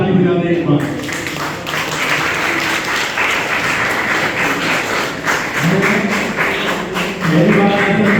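A crowd applauds at a teachers' honour ceremony in Chhindwara: a broad wash of clapping that swells in the middle, with someone speaking into a microphone at the start and the end.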